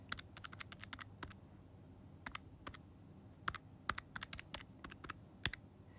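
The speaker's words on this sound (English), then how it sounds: "I'm just going to type that in my calculator just like that." Rapid, irregular plastic key taps from numbers being entered on a calculator, close and crisp, in uneven bursts with short pauses and no talking.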